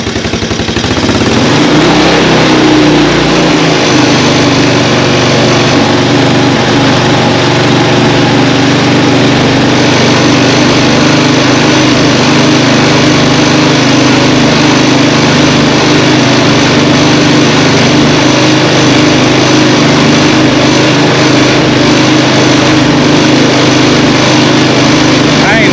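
A Honda TRX 200X ATV engine, once seized, runs loud and steady in low first gear, with a constant close-up drone throughout and voices talking over it.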